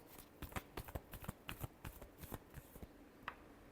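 A deck of tarot cards being shuffled by hand, a quick run of crisp, close riffling flicks and taps that comes in bursts and then stops.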